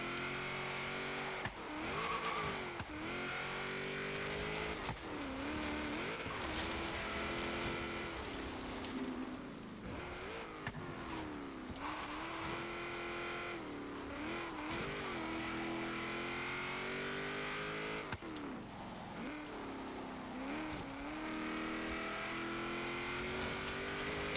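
A 1973 Ford XB Falcon GT races an autocross course in the video game Forza Horizon 3, its engine revving hard and continuously through repeated gear changes and rising, falling pitch, with occasional tire squeal, close and loud throughout.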